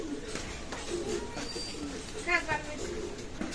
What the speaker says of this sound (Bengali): এক জোড়া কবুতর আপনাদের দেখাবো